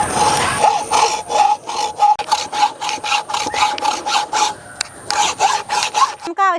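Wood pieces for a Christmas crib are cut with steady, rhythmic back-and-forth rasping saw strokes, close and loud, continuing without pause until a final scrape.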